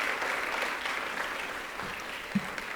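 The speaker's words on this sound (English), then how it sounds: "If we could give them a round of applause," Audience applause for bakery employees at an evening awards ceremony: a faint, distant patter of clapping that runs steadily for a few seconds, with no one speaking over it.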